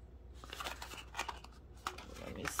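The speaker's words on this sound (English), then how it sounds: "I now have scissors so that I can get the items out without breaking the box" Crisp snipping and crinkling of packaging up close, several short cuts and rustles in a quiet room.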